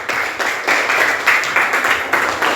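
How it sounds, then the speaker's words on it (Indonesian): Classroom applause for a group of students who just presented, during an Islamic religious education lesson for fourth graders. Dense, steady clapping from many hands fills the whole stretch at close range, with no talking over it. "Kasih tepuk tangannya buat kelompok yang sudah maju."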